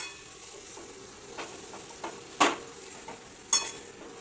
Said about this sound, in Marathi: बटाटे टाकून त्याला छानपैकी परतवून घेऊया.